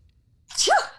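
A single sharp human sneeze bursts out loud and close after a near-silent pause, rising quickly and fading within half a second.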